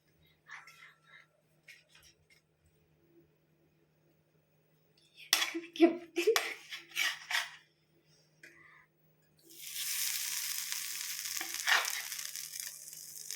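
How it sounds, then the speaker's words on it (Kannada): Burger tikkis laid one by one onto a tawa with a spoon or two of hot oil: a few quiet clatters and handling knocks, then a loud, steady sizzle bursts in and holds to the end. "ತವಾ ಮೇಲೆ 1-2 ಸ್ಪೂನ್ ಆಯಿಲ್ ಹಾಕ್ಕೊಂಡಿದ್ದೀವಿ, ಮತ್ತು ಒಂದೊಂದೇ ಟಿಕ್ಕೀಸ್ನ ಇವಾಗ ಹಾಕ್ಬೇಕು ಅದ್ರ ಮೇಲೆ"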